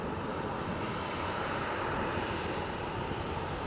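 Jet airliner engines at Faro Airport, a steady loud roar filling the whole stretch, broadband and continuous without breaks or voices.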